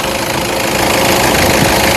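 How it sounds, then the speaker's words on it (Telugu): A 2013 Toyota Innova 2.5 V idles with a steady, even engine rumble and a quiet mechanical clatter, heard close and loud for about two seconds with nobody speaking. "చూడొచ్చు, ఇంజన్ యొక్క నాయిస్ సైలెంట్గా ఉంది."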